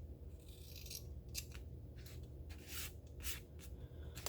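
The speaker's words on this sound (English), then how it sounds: "we're going to trim the seam allowance down by half along all sides" Scissors snip through fabric seam allowance on a homemade cold or hot compress, a series of short crisp cuts at an uneven rhythm, close and fairly quiet, with no talking.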